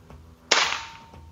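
A single sharp shot from a Neo GNT Titanium v2 air rifle cracks out, close and loud, with a short hissing decay after it.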